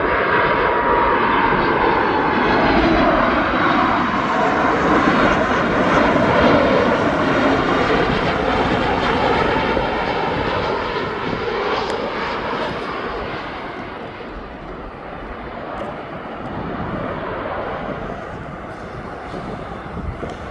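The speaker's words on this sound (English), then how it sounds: "This is Ryanair from Rias. He's now coming into land." A Ryanair passenger jet comes in to land at East Midlands Airport, its engines roaring loud and steady with a broad jet rush that eases slightly as it passes.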